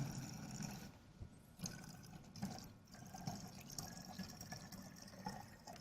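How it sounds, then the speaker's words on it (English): Water poured into a balloon taped over holes in an air-pressure science demonstration, a low steady splashing and trickling flow running throughout at moderate, close level. "Now we're going to pour our water into the balloon"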